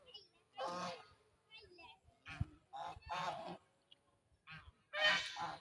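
Geese in a winter Bangladeshi countryside setting honk in loud, repeated bursts, several calls overlapping close by with short pauses between them.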